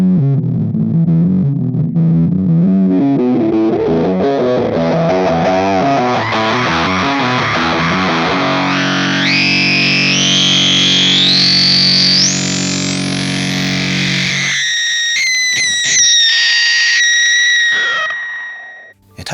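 Guitar played through a Bliss Factory fuzz pedal with its filter engaged, giving loud, thick fuzz notes that morph into a rising, whistling resonant sweep before dropping away, no voice over it.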